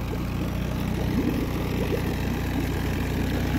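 A free Yamaha 15 hp outboard, a 2007 ultra-low-emissions model, runs steadily at a smooth idle, its low engine drone holding even and continuous throughout without any talk.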